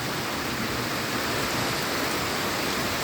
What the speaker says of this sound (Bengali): খালি মুষলধারে বৃষ্টি হওয়ার আর কি।